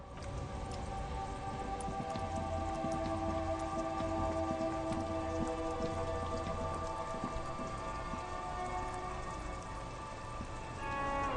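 Steady rain ambience in the video game Disco Elysium, a dense continuous patter of drops with faint tonal music underneath, with no talking.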